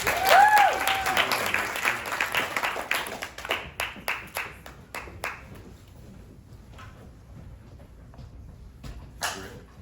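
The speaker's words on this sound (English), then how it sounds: "let's clap it up, ladies and gentlemen" Audience applause at a tech pitch competition, loud and dense at the start, then thinning into scattered, rhythmic claps that fade out, with a single late burst.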